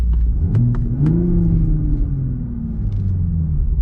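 A 2023 Toyota GR Supra 3.0 with the six-speed manual accelerates on a race track, its engine loud and close, pitch climbing then easing and rising again across a few seconds with brief clicks over the rumble.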